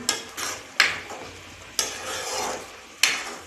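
A spicy tamarind curry with coconut and eggplant simmers and sizzles in a pan while a spoon scrapes through it in four distinct stirring strokes, close and fairly loud, with no talk.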